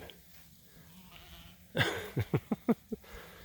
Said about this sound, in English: Sheep. Here they come.